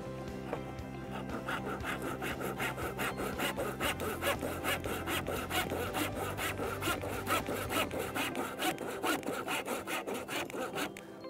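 Handsaw cutting wood for a stool, a steady rhythmic rasp of back-and-forth strokes, close and continuous, with no talk.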